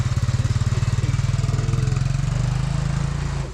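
A scooter-like motorbike without a clutch pulls away on a road in Longwa, Nagaland, its small engine putting out a steady, close, pulsing drone for the whole stretch.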